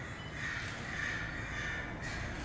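Raven caws used as a sound effect in a stage play, harsh calls repeating over a hissy, continuous background at moderate loudness.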